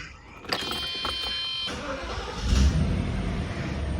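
A Mercedes W126 engine cranks briefly and catches, settling into a smooth idle around 650 RPM with the compressor running, heard close up, with a faint whine during cranking and a low steady rumble afterward.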